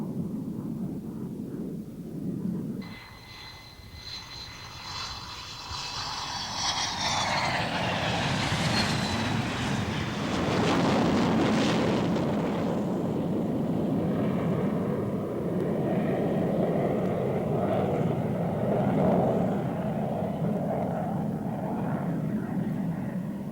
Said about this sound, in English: Here, as it begins its landing with an F-4 chase plane following